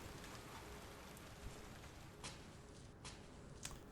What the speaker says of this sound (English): Raining outside. We've got the rain ASMR.